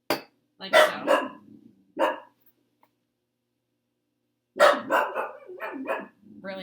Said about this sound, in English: Harley, stop barking.